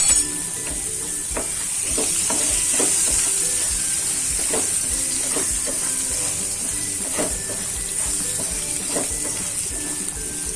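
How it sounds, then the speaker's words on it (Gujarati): Carrots and peas sizzling and frying with roasted dal in a pan, a steady loud hiss with scattered pops and stirring clatters throughout. "આપણે લીલા શાકભાજી ઉમેરી દઈશું એટલે ગાજર ને વટાણા એટલે આપણે તેને કૂક કરી લેવાના છે"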